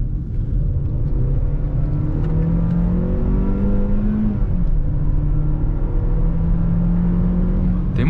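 A Hyundai Tucson turbo SUV accelerates through city streets, its engine droning with rising and shifting tones heard from the cabin, loud and continuous throughout.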